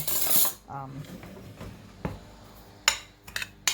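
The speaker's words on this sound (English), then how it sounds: "I'm going to dump the butter in and stir this all up" Ground crumbs with butter and cinnamon stirred inside a baking pan for a gelatin dessert, giving clinks and scrapes of a utensil against the pan, some sharp knocks toward the end.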